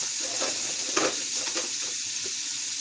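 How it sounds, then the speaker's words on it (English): Onion sizzles steadily in a pot with salt for a venison pot roast, a continuous close frying hiss broken by a few soft scrapes of stirring, no voices. "I'm going to stir until the onion begins to soften and release the liquid"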